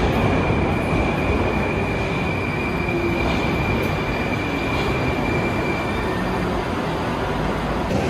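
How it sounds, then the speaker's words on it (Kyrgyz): Aeroexpress train running from Belorussky station to Sheremetyevo airport, heard from inside as a loud, steady rumble of wheels and carriage noise, with a faint continuous whine above it. "Белорусский вокзалдан Аэроэкспресс менен Шереметьево аэропортуна кеттим"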